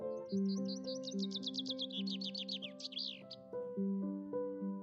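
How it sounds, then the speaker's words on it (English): Birds chirp in a rapid run of bright trilling notes over steady, sustained musical tones, fairly close and clear, with the song stopping partway through while the music continues. "There was a group of birds chirping in harmony"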